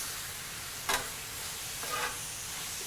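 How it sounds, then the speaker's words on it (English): Lamb and spice paste frying on a hot griddle, a constant dense sizzle with two brief scraping strokes of a spatula as the meat is stirred and folded. "fry everything together, stirring and folding to incorporate the paste"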